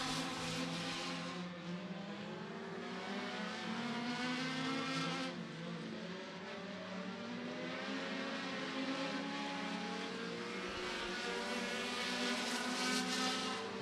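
Compact race cars lap the Beckley Motor Speedway oval in Mount Hope, West Virginia during qualifying, engines droning and revving continuously at steady loudness, with the pitch rising and falling as the cars circle the track.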